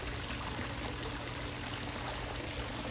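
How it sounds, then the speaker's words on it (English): Steady splashing and trickling water from a small waterfall feature beside a backyard swimming pool, a continuous broadband wash that stays even and moderately loud with no voices. "Got a funky little waterfall feature there."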